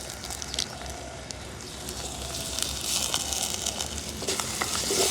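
Chopped onions, green chillies and curry leaves fry in an oiled pan while being stirred, producing a constant close sizzle and crackle with occasional scraping taps and no talk.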